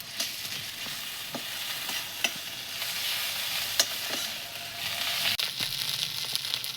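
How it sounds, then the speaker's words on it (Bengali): Ginger and garlic paste frying with browned onions in a pan, a steady sizzle with scattered stirring scrapes and clicks, close and alone. "পেঁয়াজটা ভাজা হয়ে গেছে এবার আদা বাটা আর চার কোয়া রসুন বাটা এটা দিচ্ছি"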